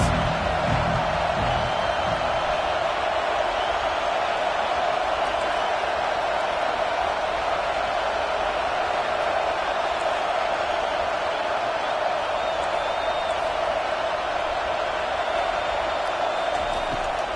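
Roaring college football stadium crowd at an NCAA game, a steady dense wall of cheering and noise backing the defense on a third down, continuous and loud throughout.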